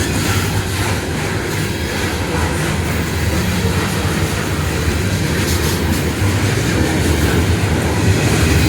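An Amtrak passenger train passing on the track at Thurmond, West Virginia, a loud, continuous rumble and roar of the rail cars rolling by at close range, steady throughout with no talking.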